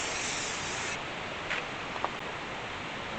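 Spray adhesive being sprayed onto shelf liner for a homemade door panel insert, a continuous close hiss that holds steady throughout, with a couple of faint light knocks partway through.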